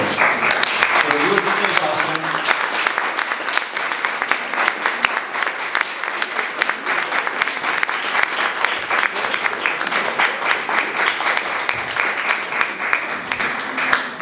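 Audience applause at an Independence Day centenary ceremony in Mierzeszyn, Poland, greeting a singer: dense, steady clapping from a large crowd, sustained and fairly loud throughout with faint voices underneath.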